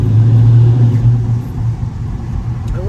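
Idling Dodge Charger R/T with its 5.7 Hemi V8 gives a loud, steady low rumble close by, off the throttle, with no talking.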